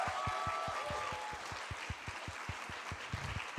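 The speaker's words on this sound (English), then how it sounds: "let's just give them another round of applause" An audience at a university Three Minute Thesis final applauds steadily, a dense wash of many hands clapping with no voices over it, a few sustained tones trailing faintly through the first second.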